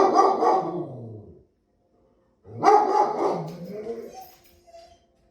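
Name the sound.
dogs barking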